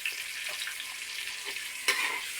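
Three medium onions sizzle in hot ghee, a soft continuous frying hiss with a few light stirring scrapes and one sharper clatter near the end, with no voices.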